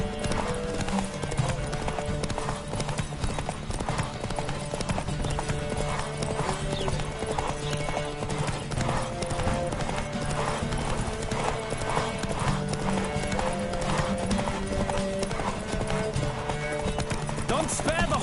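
Hooves gallop steadily in Witcher 3, a continuous rapid clip-clop running the whole stretch over game music and ambience, with an occasional whinny and a voice talking over it.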